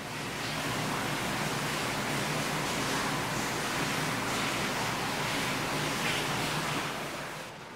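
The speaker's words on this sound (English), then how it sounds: "you can hear the water rushing into the mine like a waterfall down there." Water gushes steadily into a flooded abandoned gold mine like a waterfall, a broad, constant rushing roar heard from above the shaft, fairly loud and unbroken with no voices.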